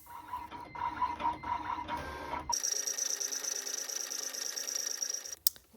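A cutting machine runs a test cut on strip flock at speed 10 and pressure 15, a steady mechanical whir with a bright high buzz after a shift midway, ending with a brief click, no talk.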